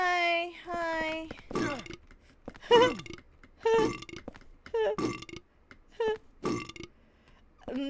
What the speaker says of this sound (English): They just burp. That's it.